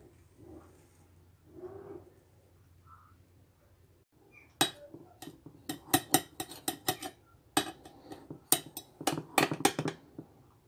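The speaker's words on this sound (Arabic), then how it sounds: "دابا غادي نقطع لكم طريف باش تشوفوها" A piece of cake is cut on a serving plate, with a rapid run of sharp metallic clinks and scrapes of cutlery against the dish, close and fairly loud after a quieter stretch of soft handling noise.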